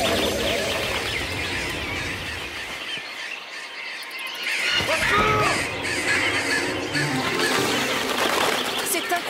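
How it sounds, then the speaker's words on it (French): A huge cartoon flock of birds with crows cawing fills the scene in a dense, continuous chatter of calls and wingbeats. Voices talk over it for most of the stretch. "Ces oiseaux sont tellement nombreux qu'ils nous cachent le soleil!"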